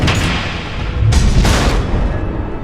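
Missiles detonate in Batman: The Enemy Within with heavy, rumbling booms, two strong blasts close together over a low continuous roar, loud and near.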